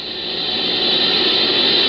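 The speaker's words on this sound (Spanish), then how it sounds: "Pero la Horn Antenna que utilizan recibe constantes interferencias." Constant radio interference comes in through the Horn Antenna radio telescope and is rendered as steady, loud broadband hiss with a bright high edge, unbroken for about two seconds before it cuts off abruptly.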